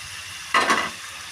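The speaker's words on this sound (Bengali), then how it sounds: "ভালো করে নাড়িয়ে নেব।" Chicken frying in oil in a pan is stirred, giving one short burst of sizzling scrapes that rises suddenly, lasts about a third of a second, then fades back to a quiet background.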